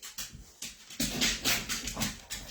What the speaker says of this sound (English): You might hear the dogs playing around in the background.